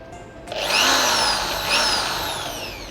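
A Total TG106136 cordless impact drill, set to regular drilling mode, spins up and runs steadily at high speed, a loud close whirring motor with a slight pitch shift partway through.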